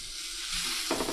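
Potato pieces hit a hot frying pan with a steady, close broadband sizzle, building slightly midway and flaring into a brighter crackling burst near the end as more potato drops into the oil.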